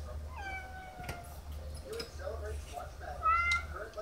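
A pet cat gives a series of drawn-out meows, several distinct calls spaced over a few seconds with the last one louder, close to the listener in a quiet room with a low hum underneath.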